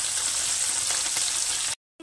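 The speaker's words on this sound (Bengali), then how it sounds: "মাছগুলো আমার ভাজা হয়ে গেছে," Taroi, a one-bone sea fish, fries in hot oil with a continuous, even sizzle that stops abruptly near the end before a brief return.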